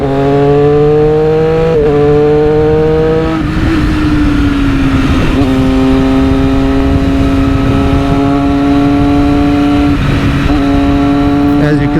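A limited 2020 Triumph Moto2 Daytona 765 triple motorcycle engine revs hard and loud, its pitch climbing and dropping in repeated throttle blips, close up with no talking.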